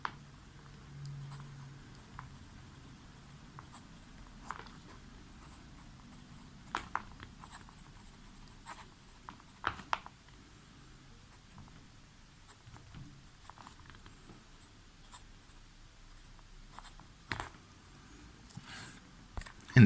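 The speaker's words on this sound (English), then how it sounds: "so let's see how this pen writes" Visconti fountain pen nib moving over 80 gram Rhodia notebook paper, faint scratchy strokes and soft taps at irregular intervals, close and quiet with no talk.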